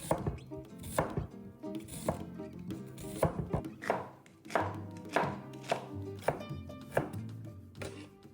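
Red Cabernet onions sliced with a knife on a cutting board, a steady run of crisp, close chops landing in an uneven rhythm, about a dozen strokes with no talking.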